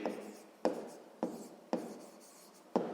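Pen or pencil writing out a sixth-grade maths solution on paper, heard close and alone as a steady scratching with four sharp strokes or taps spread across the stretch.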